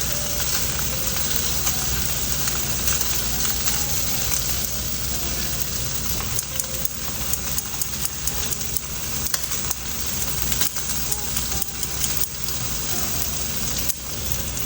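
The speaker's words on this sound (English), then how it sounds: "Ooh, sizzle, sizzle." Slices of Spam fry in a hot pan for a crispy spring-roll filling, giving a steady, loud, close sizzle and crackle that runs unbroken throughout with no talking.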